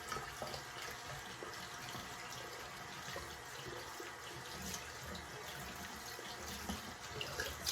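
Tap water running steadily into a sink while a shaving brush is rinsed, a continuous close hiss and splash with no talking.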